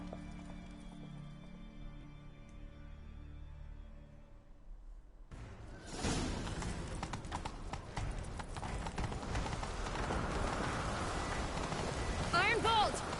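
Soft music plays, then a horse's galloping hooves suddenly burst in loud and close, pounding steadily for several seconds with a rush of noise, in The Witcher 3: Wild Hunt.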